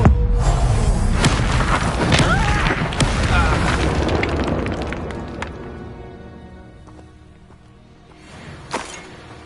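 Expulso explosion spell in Hogwarts Legacy, a loud booming blast at the start that rumbles and fades over several seconds amid scattered combat impacts, with a later small thump.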